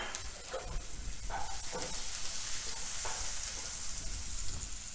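Chopped onion with asafoetida, turmeric and red chilli frying in a pan for an onion bhaji, giving a steady close sizzle with a few soft stirring scrapes, no voices.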